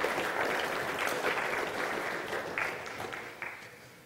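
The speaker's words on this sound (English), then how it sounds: "a big round of applause for both Alex and Zane" Audience applause at the Toorcon 2007 security conference, a dense burst of clapping from the crowd that tapers off gradually as it thins out.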